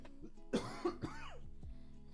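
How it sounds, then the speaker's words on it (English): A single person coughs several times in a quiet room, a close, rough burst followed by a few shorter hacking coughs and throat-clearing sounds spread over about two seconds. "Sorry, I have a bit of a cough."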